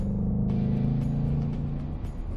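2018 Ford Mustang GT with its V8 engine giving off a steady, loud low rumble that holds even across the whole stretch, with no talking over it.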